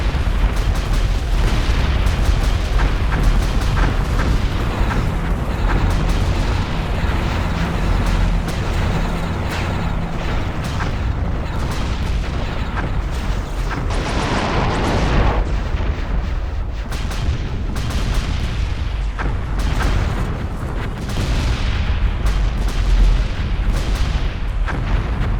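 Long-range Bertha artillery pieces in the Zero-K strategy game fire continuously, making heavy, booming blasts over a dense, constant roar of in-game battle noise, loud throughout with no talk.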